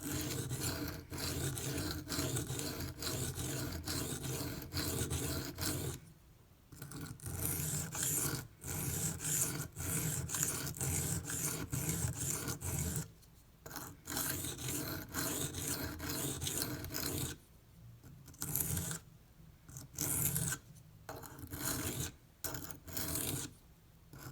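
Microtech UTX-70 knife blade rasped across a Venev pocket diamond stone of 100 and 240 grit in steady rhythmic strokes, close and fairly loud, broken by several short pauses.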